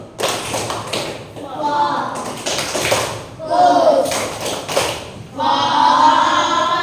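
Several bursts of hand clapping come from a group playing the tepuk fokus clap game in a classroom, sharp rhythmic claps alternating with voices chanting and talking.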